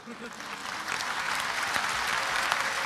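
Lecture-hall audience at a religious debate clapping, dense steady applause that swells in after a brief lead-in with a voice faintly beneath, sustained and fairly far off.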